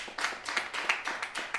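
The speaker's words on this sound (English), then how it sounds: "Oh, applause." Brief, faint clapping from a jazz concert audience: a handful of evenly spaced claps in quick succession, thin and sparse rather than full applause.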